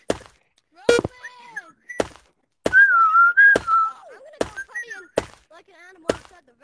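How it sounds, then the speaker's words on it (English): A whistle sounding in a Gorilla Tag fan game, with warbling, wavering whistle tones that rise and fall between sharp thunks and knocks recurring about once a second, fairly loud and up close. "The whistles work."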